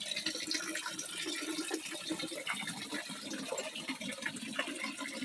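Water driven by a pump overflowing from a filled tank, a continuous splashing, gurgling rush of falling water, moderately close and steady throughout with no talking.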